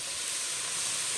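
Hot oil left over from frying pearl spot fish hisses and sizzles steadily in a pan while cooking a Kerala-style dish, a bright, continuous frying crackle with no voices.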